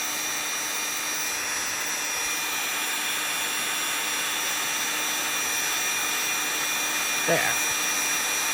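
A heat tool blows a steady, loud whooshing hiss while warming shrink plastic for a penguin bottle stopper, running continuously with a brief spoken word near the end.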